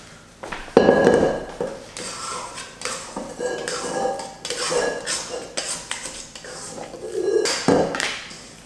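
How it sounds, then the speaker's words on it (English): Sticky, oily sourdough dough scraped out of a mixer bowl with a scraper, bringing a series of clanks, scrapes and clinks of metal against the bowl, fairly close, with some talking mixed in. "tip your dough using a scraper like this out of the mixer bowl"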